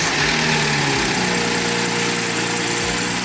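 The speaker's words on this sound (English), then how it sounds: "Car has been idling here for a few minutes" A BMW B58 engine fitted with a BMS intake idles steadily, a loud, even rumble with a constant low drone and no revving, and no voices.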